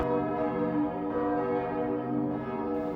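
Bells of Saint-Flour cathedral, with bells cast in 1771 and 1837 and a three-tonne bourdon cast in 1881, ring in a dense, continuous peal of overlapping tones that sustains steadily throughout.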